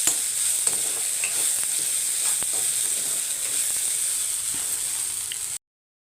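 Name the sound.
okra being roasted and stirred in a pan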